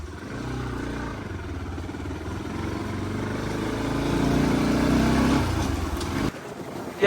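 A motorcycle engine drones steadily on a muddy road after heavy rain, swelling louder near the end before cutting off abruptly, with rough low rumbling throughout.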